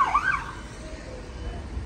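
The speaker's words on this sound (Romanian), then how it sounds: "Uite încă o mașină de pompieri." A fire engine siren wails on a street during a large blaze in a city centre, a single rising and falling tone that is clearest at the start and then fades back into a steady background rumble.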